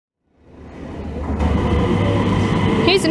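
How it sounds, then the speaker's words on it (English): A train rolls past at a station in Copenhagen on its way to the airport, rising from silence into a steady loud rumble with rail noise and a faint squeal near the end. "Here's another train. This one's heading to the airport."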